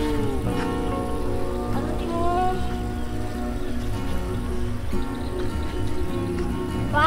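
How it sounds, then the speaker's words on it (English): A water pump built from a gasoline drum draws water from a river with a strong, steady gurgling flow over a continuous mechanical hum. "The sound of the water sucking from the river very strong."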